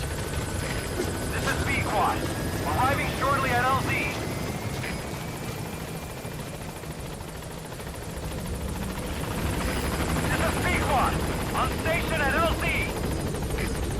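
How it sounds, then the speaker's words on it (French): Helicopter in the Metal Gear video game, a steady mid-distance rotor drone that swells and fades over the whole stretch, with someone talking over it in two bursts. "donc on va appeler l'hélico de toute façon"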